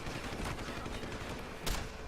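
Muffled gunfire in the video game Deus Ex: Human Revolution, a quick burst of shots heard at low level through a dense noisy game mix, with one sharper report near the end and no talking.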